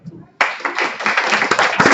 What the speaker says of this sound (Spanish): Un aplauso al compañero.